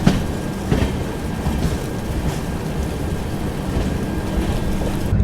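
The Haripriya Express from Kolhapur to Tirupati rumbles steadily through heavy rain in the Western Ghats, a continuous low roar of wheels and rain with faint periodic clacks and no voices.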